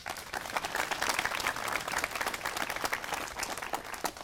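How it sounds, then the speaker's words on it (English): Audience applause at an outdoor historical marker dedication, a steady wash of many hands clapping throughout, fairly close and loud, with no talking over it. "Please give them a round of applause."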